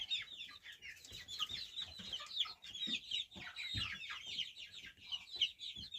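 Several young chickens and a rooster cluck and squawk in quick, overlapping bursts, fairly close, with soft thumps beneath and no talking.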